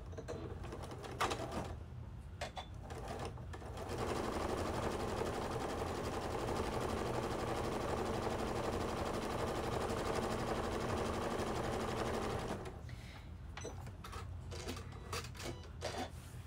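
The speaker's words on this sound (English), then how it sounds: "And I'm just going to go ahead and sew" A sewing machine stitches an X across a rag quilt block, running in one steady, close, continuous whir for about eight seconds, with quieter handling sounds before and after.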